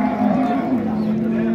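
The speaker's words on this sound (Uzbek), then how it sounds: "Chiroyli qora ola sigir." A black-and-white cow moos at a busy livestock market in Oltiariq, a single drawn-out low call against crowd murmur.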